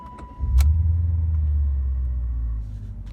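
A 1995 BMW 730iL E38 that had barely been running cranks briefly and fires up, then settles into a steady, slightly rough low idle, close up with no talking.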